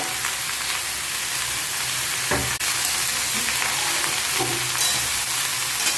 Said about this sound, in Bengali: কাঁচা লঙ্কা হলুদ নুন শাপলা ভালো করে মিশিয়ে নিচ্ছি